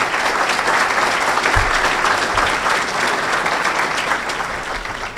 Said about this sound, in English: I want to give a huge round of applause for Megan Matu.